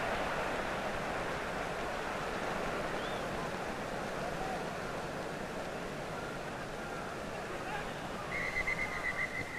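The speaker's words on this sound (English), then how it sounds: "That's why the whistle has gone again." A referee's whistle sounds a sustained shrill blast near the end of the clip, over the steady roar of a large crowd at the 1953 England versus Rest of the World football match, in an old, hissy recording.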